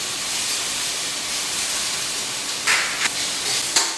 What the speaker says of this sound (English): Let's go back to our frying potatoes and carrots.